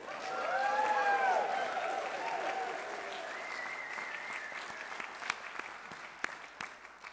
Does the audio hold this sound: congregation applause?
yes